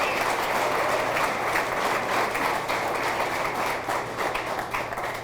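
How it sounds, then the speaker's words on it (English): A sustained round of applause from the crowd at a high school athletic hall of fame ceremony, steady dense clapping throughout with no talk over it. "That deserves a round of applause right there."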